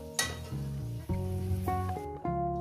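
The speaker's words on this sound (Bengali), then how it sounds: "আমি আলুগুলো সুন্দর করে লাল লাল করে ভেজে নেব" Potatoes fry in hot oil in a home kitchen with a steady, close sizzle that is partly masked by louder tonal music playing over it.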